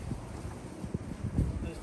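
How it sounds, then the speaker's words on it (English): Gusty wind buffets the microphone outdoors beside a car under repair, a low, rumbling, uneven whoosh that pulses continuously through the short stretch. "start getting really windy here."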